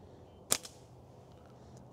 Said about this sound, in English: Three shots over the chronograph with clay ammo.